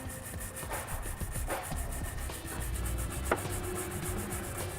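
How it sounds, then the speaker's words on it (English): Nylon brush scrubbing inside weld nuts of a 2017 Kia Sorento frame, quiet repeated rubbing strokes against metal, close and steady with no talk. "I'm going to come back with a nylon brush, and I'm going to clean out the weld nuts"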